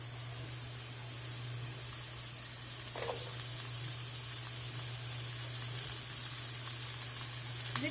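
Zucchini added to a pan of caramelized onions fries with a steady close hiss, the sizzle rising slightly as the vegetables drop in, with a low constant hum beneath and no talking.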